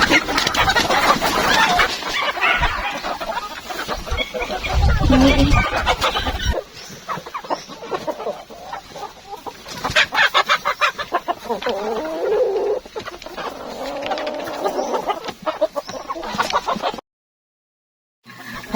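Chickens cluck steadily on a small poultry farm, with repeated calls close by and a rooster crowing among them. Rustling and farmyard noise run underneath, and a brief silent gap comes near the end.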